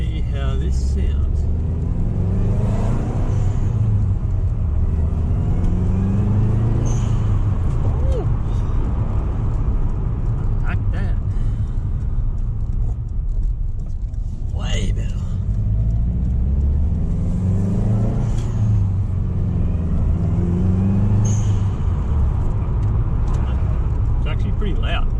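A Subaru WRX fitted with an aftermarket blow off valve, its engine rumbling through repeated revs with sharp hissing venting bursts between them, loud and close throughout.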